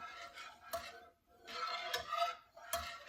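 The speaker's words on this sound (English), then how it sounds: "I'm just gonna stir up this Alfredo sauce a little bit" A spoon scrapes and stirs thickened Alfredo sauce in a pan in soft, repeated strokes, quiet and close, with brief sharper taps against the pan.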